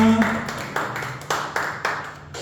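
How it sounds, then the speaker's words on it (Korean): A church congregation claps during a worship service over sustained music, with several distinct, fairly loud claps spaced unevenly. "우리에게 평화 주시는 주님께 영광의 박수 올려드립니다"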